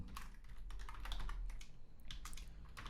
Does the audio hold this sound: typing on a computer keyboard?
yes